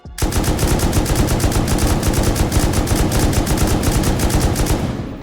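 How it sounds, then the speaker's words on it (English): Sustained automatic gunfire in Rust Console Edition, a loud, rapid, evenly spaced stream of shots lasting about five seconds before stopping abruptly. "So I'm gonna shoot like 40 bullets and then I'm gonna shoot the last 40 with 4 times"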